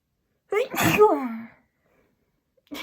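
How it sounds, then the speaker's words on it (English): One loud, close sneeze with a sharp burst and a trailing vocal tail, followed by silence. "Oh, I need to sneeze now."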